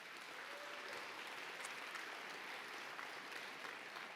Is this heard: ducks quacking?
no